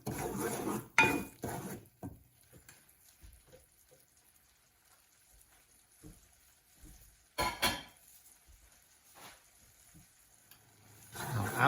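Minced garlic is stirred in a pan while making a white pizza sauce, giving scattered utensil scrapes and clanks against the pan, with a few louder knocks near the start and end and quiet gaps between.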